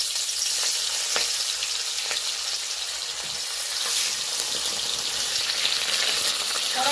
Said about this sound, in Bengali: এই পর্যায়ে মাছগুলো ভেজে নেওয়ার জন্য তুলে দিচ্ছি।